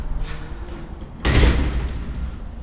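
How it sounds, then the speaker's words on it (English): A foyer door swings shut under a hydraulic door closer and lands with one solid thud and latch rattle midway through, against a faint room hum and no talking. "Speed of the door closer now, let's check that."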